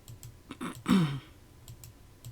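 A few scattered keystrokes on a computer keyboard while a name is entered into a search box, soft clicks spread unevenly with one louder burst near the middle and no talk.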